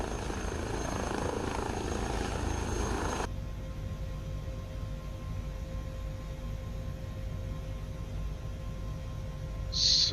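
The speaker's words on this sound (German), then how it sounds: "jetzt sollte dieser Heli von selbst in eine rückwärtige Lage steigen" A helicopter roars loudly for about three seconds as a dense, steady rush of rotor and engine noise, then drops to a much quieter, distant hum, with a short bright chirp at the very end.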